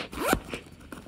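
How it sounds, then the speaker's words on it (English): Zipper on a side pocket of an RTIC cooler backpack, one quick close zip pull with a rising rasp, followed by a couple of fainter short zip strokes. "Another same zipper, same identical setup here on the side."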